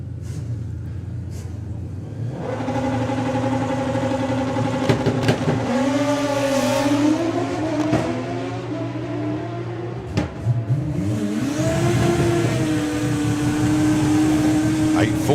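Drag racing cars launch down the strip at a Greenlight Nationals meet, loud engines rising in pitch over a steady roar, with a second surge near the end while an announcer talks over them.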